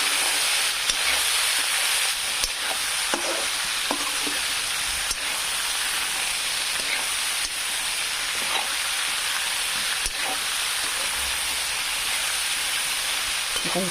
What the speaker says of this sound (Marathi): त्या भाज्याला व्यवस्थित फ्राय करायचं आहे.